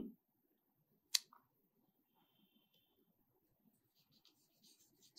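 Two sentences are written out for an online Arabic grammar lesson: one sharp scratch of writing, then faint, sparse scratching in an otherwise quiet room.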